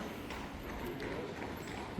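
Horses pulling an evening fiacre carriage with tourists through Vienna, hooves clip-clopping steadily on the street amid a busy hiss of city noise and voices.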